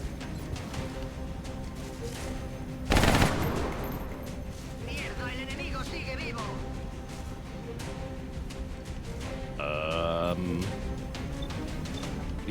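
Gunfire from the strategy game XCOM: Enemy Unknown: one loud, sharp burst stands out amid game music and effects, with someone talking over the scene.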